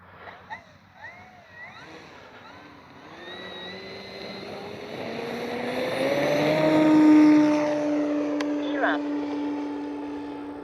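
An E-flite Carbon Z T-28 RC airplane flies overhead, its motor a tonal whine that swells and rises in pitch as it draws nearer and louder, then levels off.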